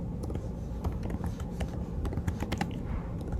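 Steady, quick clicking of a computer keyboard being typed on, close and continuous over a low background hum, with no speech.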